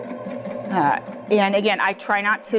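A Baby Lock Jazz II sewing machine runs in short bursts as it stitches and turns a corner, a buzzing whir heard close up under a person's speech.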